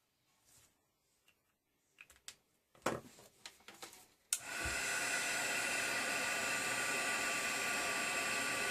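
A few light taps and handling knocks come first, then a handheld craft heat dryer switches on and blows with a loud, steady whoosh to dry a paper craft tag.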